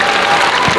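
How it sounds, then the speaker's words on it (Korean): A short, loud burst of crowd applause at a Black Combat mixed martial arts event, dense clapping from a packed audience cheering a fighter, heard close and without talk. "최선을 다해 싸워준 캡틴 코리아 선수께 큰 박수 부탁드리겠습니다."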